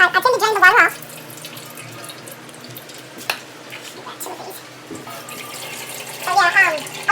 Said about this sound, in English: I drain the water off.